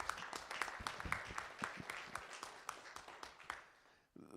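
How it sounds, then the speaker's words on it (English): A small audience at a songwriters-in-the-round event claps for a sound technician and a helper, a fairly quiet, scattered round of applause in a venue that thins out and stops near the end. "how about a round of applause for Caleb and Paul"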